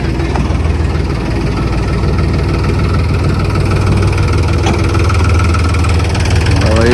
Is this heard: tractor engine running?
yes